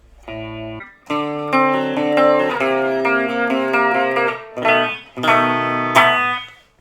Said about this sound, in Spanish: Un reverb con chorus